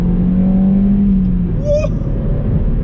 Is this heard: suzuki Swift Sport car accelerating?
yes